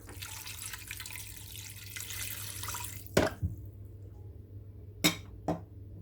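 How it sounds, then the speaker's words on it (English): Water pouring into a pot of mutton, garlic and ginger, a steady rushing flow for about three seconds that then stops, followed by a few sharp knocks of the pot, close by. "I'll then add some water."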